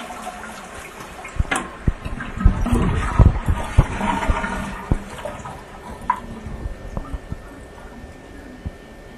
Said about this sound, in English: Remove the remaining water in the tank.